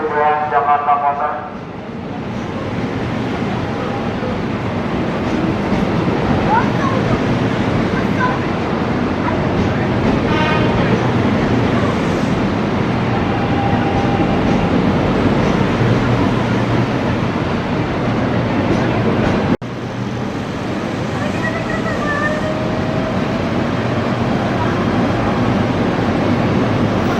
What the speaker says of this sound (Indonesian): KRL Inka Transit 1 sudah masuk jalur 1 stasiun Depok